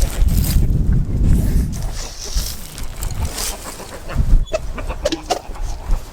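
Chickens cluck and squawk in a pen, scattering from a net, with busy, fairly close fowl calls over rustling and scuffling.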